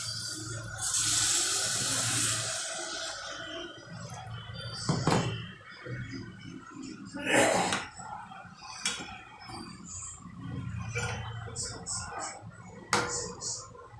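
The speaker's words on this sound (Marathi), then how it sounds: "आता पाणी घालूया." Water is poured into a simmering pea and potato curry, a splashing gush near the start followed by quieter kitchen clatter and brief knocks, with a voice speaking intermittently.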